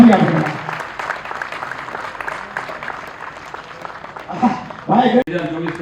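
Applause from a seated crowd at an award ceremony honouring a prize-winning daughter, a moderate wash of clapping that fades before a voice speaks briefly near the end.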